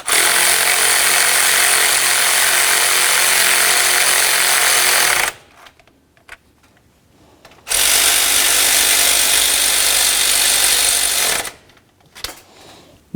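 Impact or power tool driving bracket bolts snug on a 2007-or-later Toyota Tundra during water pump replacement, two loud sustained buzzing bursts of about five and four seconds separated by a quiet pause, close up with no talk.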